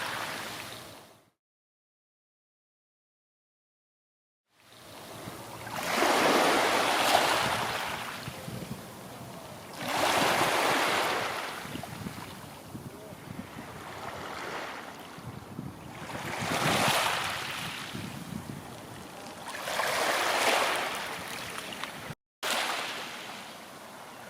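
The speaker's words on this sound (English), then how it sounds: "The tide is on the turn now, leaving behind today's tide line of seaweed" Sea waves rolling in and washing out across the wide expanse of Morecambe Bay, in slow surges every few seconds, with wind buffeting the microphone.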